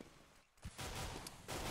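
Rapid MAC-10 submachine gun fire in a competitive Counter-Strike: Global Offensive match on Inferno, a dense burst running almost continuously at close range with no talk.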